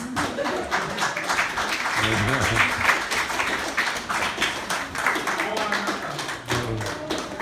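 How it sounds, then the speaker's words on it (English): A college audience claps in a loose, uneven patter of hands throughout, with people talking over the applause. "Keep clapping."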